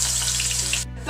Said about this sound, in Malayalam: എണ്ണ നന്നായി ചൂടായി വന്നിട്ടുണ്ട്. നമുക്കിനി പൊട്ടറ്റോ ഇട്ട് കൊടുക്കാം.